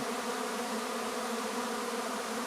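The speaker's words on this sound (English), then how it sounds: "So I'm suspecting this is a swarm." A honeybee swarm hums in a continuous, even drone at moderate volume, with no voices.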